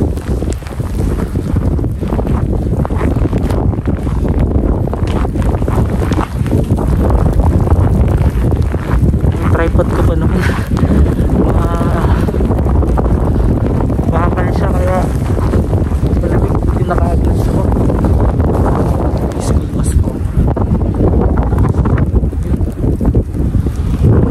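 Strong wind buffets the microphone in a continuous, loud roar while someone walks on piled snow outdoors, with scattered voices talking faintly underneath.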